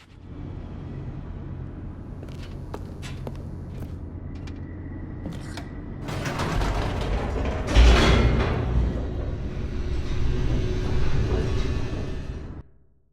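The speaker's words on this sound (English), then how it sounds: "The elevator raced downward, plummeting towards an unknown fate." An elevator in The Stanley Parable: Ultra Deluxe descends with a low mechanical hum and clicks. It swells into a heavier rumbling rush partway through, then cuts off abruptly at the end.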